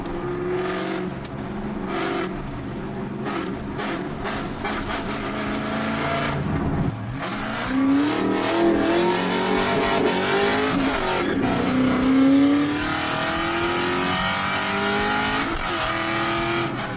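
Loud car engine revving hard through its tailpipes, a sustained screaming roar that rises in pitch and swells louder midway, heard close up with no talk.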